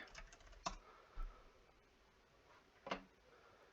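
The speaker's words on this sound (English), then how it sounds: "I'm typing in WikiPakk." A few faint, sparse clicks of keys on a computer keyboard while a search term is entered, quiet and close with long gaps between strokes.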